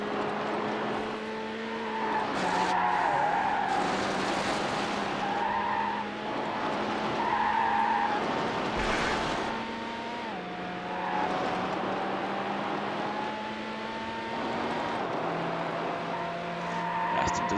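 Race cars in Need for Speed Hot Pursuit 2 roar continuously with engine tones shifting through gear changes, and repeated tire skids squeal over the drone.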